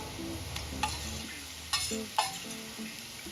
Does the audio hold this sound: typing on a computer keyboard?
no